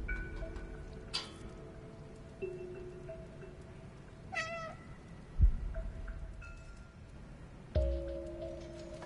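Soft, faint meows from a cat in the video game Stray, several short calls spread out over quiet ambient game sound with a couple of low thuds.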